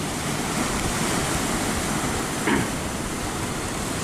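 Sea waves wash steadily onto the shore on a windy day, with wind around force four or five, forming a continuous loud roar with a brief louder surge midway; no one speaks.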